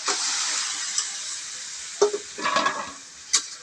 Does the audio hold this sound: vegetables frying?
yes